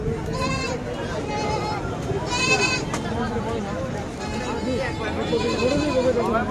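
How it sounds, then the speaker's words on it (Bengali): Goats bleat repeatedly at a busy livestock market in Fatullah, several nearby calls rising over a constant crowd murmur and people talking. "ফতুল্লা ছাগলের হাট ফতুল্লা"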